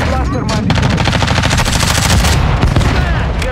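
Rapid automatic gunfire from a Call of Duty match on the Shipment map crackles in dense, continuous bursts, loud and close, with a voice briefly heard among the shots.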